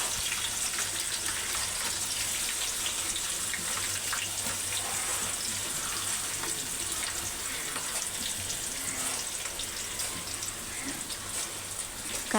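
Onions frying in oil in a pan for pulao, a steady faint sizzle and crackle that runs unbroken throughout.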